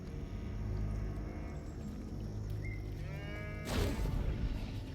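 A cow moos from a barn roof in the video game South of Midnight, with one long, low, drawn-out call over a steady background rumble, followed by a brief noisy burst.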